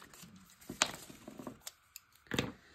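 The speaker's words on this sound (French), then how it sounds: "vous avez vu comme j'ai coupé droit avec des petits ciseaux" Small scissors cutting paper for a vintage-style collage, heard as a few crisp, separate snips and rustles close by in a quiet room.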